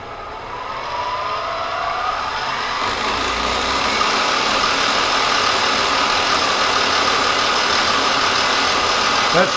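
An engine catches and settles into a loud, steady idle that rises slightly and holds close and constant, with no talking over it.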